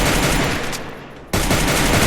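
Rapid gunfire in the Free Fire battle game, dense bursts of shots filling the clip, briefly dropping away for a moment mid-clip before resuming loud and continuous.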